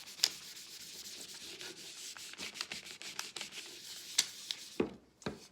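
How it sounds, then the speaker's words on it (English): A piece of plastic is rubbed and pressed firmly over a vinyl transfer to burnish it onto a welcome sign, producing close, soft scraping strokes in an irregular rhythm with a few sharper clicks. "I'm going to take this piece of plastic that I just transferred with, and I'm going to rub."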